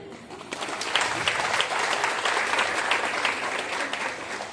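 An audience at a beauty products talk claps steadily for several seconds, a dense, even wash of applause that starts abruptly and holds at a fairly loud level throughout.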